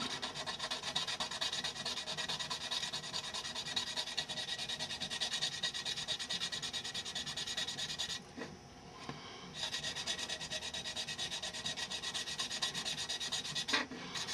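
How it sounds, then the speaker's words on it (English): Sandpaper rubs back and forth over a small hobby model part to flatten a bump, a close, continuous raspy scratching with a brief pause midway and a short scrape near the end. "I'll go ahead and sand that. Get rid of the bump."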